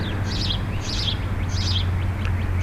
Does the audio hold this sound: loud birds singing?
yes